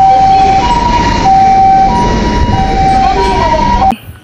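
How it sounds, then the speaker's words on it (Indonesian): A toy ambulance siren wails in a steady two-tone electronic pattern, loud and near, stopping abruptly at the end. "Mobil ambulan."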